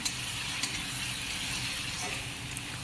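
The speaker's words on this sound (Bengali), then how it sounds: "এখন মশলাটাকে ভালোভাবে ভেজে নিতে হবে।" Spice masala fries in a pan with a steady, close hiss and sizzle, broken by a few faint clicks of stirring.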